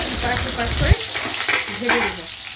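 Fish sizzles in a hot pan, loud and close, with a low rumble up front and scraping sounds from turning or stirring. There is no speech.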